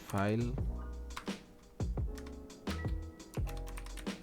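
Typing code on a computer keyboard while building an Android music player app, steady clicking keystrokes close and clear with speech over them.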